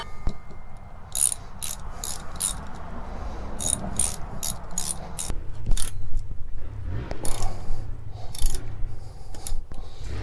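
Screws being driven to bolt a bracket into solid oak, with bursts of rapid ratcheting clicks from a hand tool in short repeated runs, close up over a low rumbling background.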